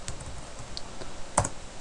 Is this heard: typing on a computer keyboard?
yes